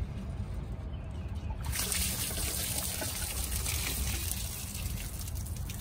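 Water drains from the filter housing of a high-pressure jetting unit, starting after a quiet moment as a soft, steady trickling and splashing that runs continuously at low volume.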